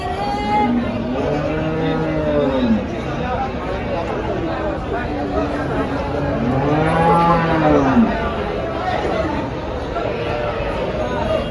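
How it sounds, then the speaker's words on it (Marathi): Cattle at a cow market moo loudly in several long, drawn-out calls close by, with a busy background of people chattering and market hubbub underneath. "तुम्हाला इथं शेतकरीच्या पण गाई पाहायला भेटतात"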